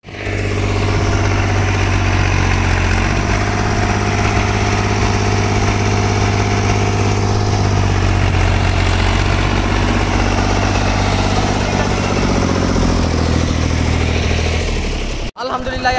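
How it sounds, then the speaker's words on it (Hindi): A tractor engine idles loudly and steadily close by with a deep low rumble, holding a constant throb for the whole stretch before cutting out briefly near the end. "मैं जो है ना वहाँ से ट्रैक्टर लेके ऊपर आता हूँ।"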